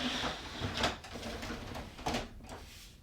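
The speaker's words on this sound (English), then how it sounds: "you just have to glide the whole drawer back" A Brother MFC-J1010DW printer's paper drawer slides closed with a faint scraping rustle and a couple of soft knocks, close but quiet.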